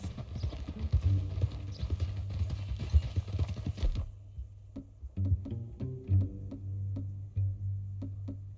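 Horse hooves clip-clop on the ground in the video game Red Dead Redemption 2. The steps are dense and rapid at first, then settle into slower, sparser, distinct strikes over a low ambient hum.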